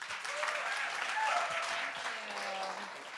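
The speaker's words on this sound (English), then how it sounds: "give her a big round of applause" Audience applause at a product-launch talk event, steady clapping from a crowd filling the room for a few seconds, with no talking over it.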